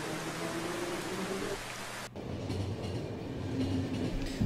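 A train rolls along in The Final Station video game with a continuous rumble and clatter, briefly cut at one point before resuming, as rain falls in the background and no one speaks.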